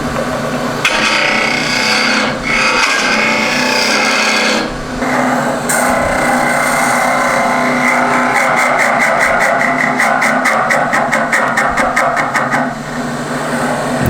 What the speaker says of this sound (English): I'm going to bring the tool rest back into play so I can just with my spindle gouge get rid of a bit of this extra stuff here